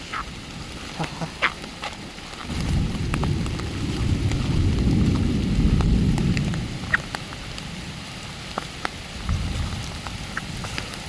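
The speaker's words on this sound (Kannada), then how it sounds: "ಮಳೆ ಬರ್ತಿದೆ ಫುಲ್ ಜೋರಾಗಿ" Heavy rain falls outdoors during a storm at a fishing spot, with a swelling low rumble in the middle that fits thunder, plus scattered drops and small knocks over a steady hiss.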